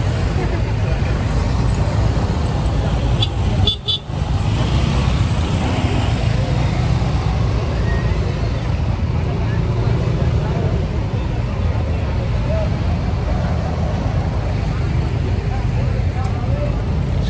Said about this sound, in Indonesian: sekarang uh, di terminal suasananya udah nggak begitu macet kayak tadi pagi.